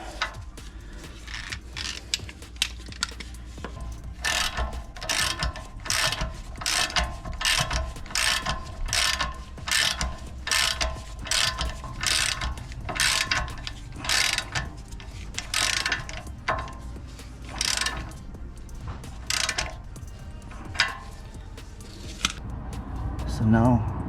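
Ratchet and socket tightening a bolt on a BMW 5 Series rear strut, a long series of rapid, evenly spaced clicking strokes close up, with a voice talking over it.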